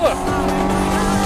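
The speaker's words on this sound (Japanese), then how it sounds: "2人に釣られて審査員長もドリフト" Cars sliding sideways at a Japanese drift event, with a JZX100, R34 and AE86 competing: a steady, loud engine roar with tire squeal throughout, voices and commentary underneath.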